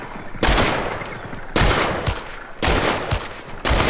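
Gunfire in a shooter video game: four loud, dense bursts of rapid shots, each running about a second, split by short breaks with no talking.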